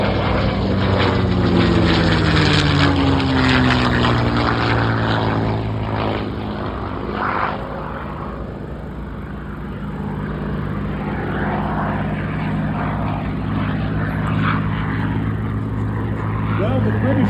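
North American propeller aircraft flying at an air show, a loud sustained engine drone with shifting pitch as it passes, under a commentator's continuous talk over the public address.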